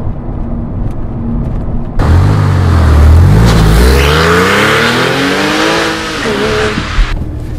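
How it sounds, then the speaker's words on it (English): A Porsche 911 Cabriolet with 315 horsepower accelerates hard, its engine note sweeping upward through rising gears from a low start into a loud, sustained roar close by, then easing near the end. "The acceleration in this 911 is very strong, very healthy."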